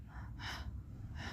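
A voice imitates a woman panting, with short breathy gasps repeating about three times in quick succession, close and fairly quiet, with no words spoken.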